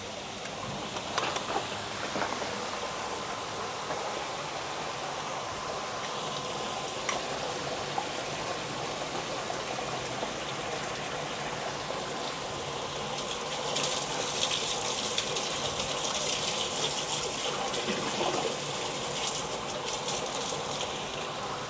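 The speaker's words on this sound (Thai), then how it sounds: "น้ำก็จะไปออกช่องนู้นแล้วก็เดี๋ยว เปิดสวิตช์ ไดโวนะครับ" A Thai SSP-405 submersible pump drains water from a koi pond, giving a steady, continuous rush and gush of flowing water that swells louder in the latter half, with no voices.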